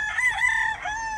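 A rooster crows loudly and close by in one sustained, wavering call lasting about a second.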